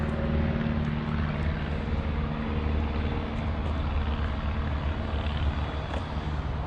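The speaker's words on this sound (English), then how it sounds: "we got airplanes flying over." Airplanes flying over near an airport, heard as a steady, loud, continuous engine drone with a low rumble that persists throughout, with no voices.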